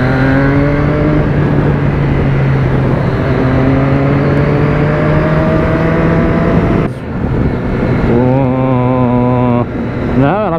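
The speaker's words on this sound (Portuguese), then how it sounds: "A moto pedindo marcha, velho." A motorcycle engine revs loud and close, its pitch rising through gears, dropping off sharply, then climbing again in a fast, wavering rev near the end.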